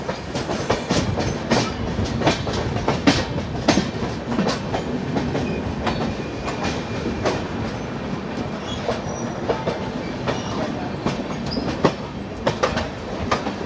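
The Grand Trunk Express rolls along the rails near Nagpur with a loud, close, rhythmic clickety-clack of wheels over rail joints, repeating steadily throughout.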